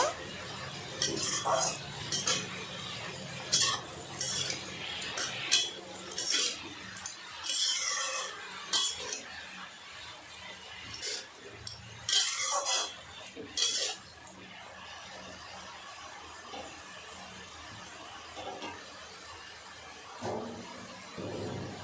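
Potato greens being mixed with coriander powder and red chili powder in a pan: a metal spatula scrapes and clinks against the pan in irregular bursts, fairly quiet and close, settling into softer rubbing toward the end.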